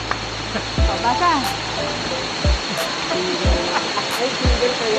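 Strong rushing water splashes and pours steadily at a farm resort swimming spot, loud and close, with repeated heavier splashes and people talking over it.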